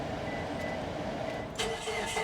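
A car engine cranks and catches, with a burst of noise partway through followed by running engine sound, fairly close and steady, with no talking.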